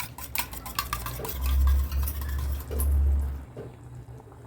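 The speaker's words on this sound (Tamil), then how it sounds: "ஒரே ஒரு முட்டை எடுத்துருக்கேன் அதில் மிளகு தூள் கொஞ்சோண்டு போட்டிருக்கேன் இப்போ வந்து இதை வந்துட்டு நல்லா இந்த மாதிரி வந்து கலக்கிட்டு கலக்கிடுங்க" An egg with a little pepper powder is stirred in a bowl, giving soft scraping and clinking sounds of utensil against the bowl, with low swishing surges throughout and no speech.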